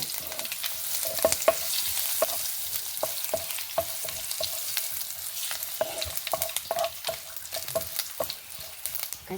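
Mustard seeds, garlic and neem-style leaves tempering in hot oil for fresh coconut chutney powder, with a soft steady sizzle and many sharp little crackles and pops spattering close by, no voices.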